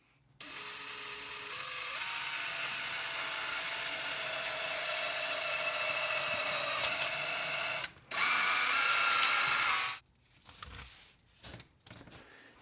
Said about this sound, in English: I'll drill it with this long drill bit so it spins freely.